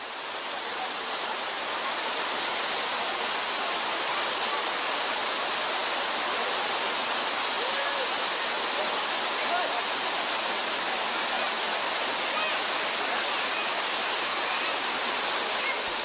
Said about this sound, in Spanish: En la segunda cascada, la formación de una piscina natural favorece el baño, aunque mejor podríamos decir ducha.